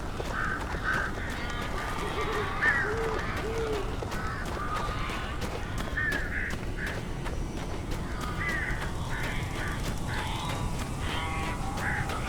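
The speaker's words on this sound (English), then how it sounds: "These birds are weird." Birds give repeated harsh cawing calls in the video game Alan Wake, loud scattered calls in clusters over a constant noisy rumble, with sharp clicks and thuds breaking in throughout.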